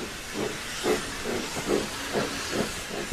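A departing steam train chuffs in rhythmic hissing bursts of steam, evenly spaced and fairly loud, with no voices.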